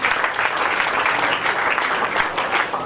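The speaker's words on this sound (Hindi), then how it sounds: "एक बार उनके समय लगाने के लिए भी तालियां हो जाए।" Wedding guests applaud the newlyweds at a marriage ceremony, dense even clapping from a crowd that holds steady for the whole stretch.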